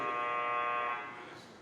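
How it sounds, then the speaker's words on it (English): A single steady electronic buzzer tone sounds for about a second at a panel discussion, then fades out. "That was a buzzer for me."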